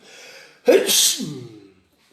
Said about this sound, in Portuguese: agora comecei a espirrar